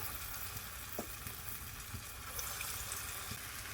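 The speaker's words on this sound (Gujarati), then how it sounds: "થોડી વાર તળાવવા દઈશું" Close, continuous sizzling and crackling of sprouted mung bean fritters frying in hot oil, steady with small pops now and then.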